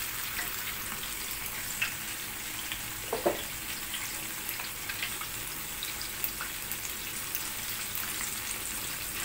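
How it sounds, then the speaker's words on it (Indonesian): Banana fritters coated in flour and breadcrumbs fry in oil over medium heat, a steady dense sizzle with a few soft pops and clinks, no talking. "Saatnya kita menggoreng."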